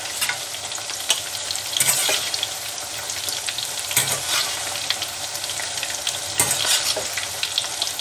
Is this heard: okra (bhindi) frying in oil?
yes